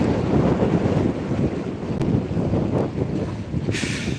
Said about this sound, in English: Now look at the wind. It's very strong.